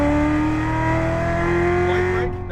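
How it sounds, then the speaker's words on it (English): A sports car, likely a Porsche GT3 RS or Corvette C7 Z06, accelerates hard out of a corner at the Las Vegas racetrack, its engine note rising steadily and loud and close before the revs cut off near the end. "Now accelerate out."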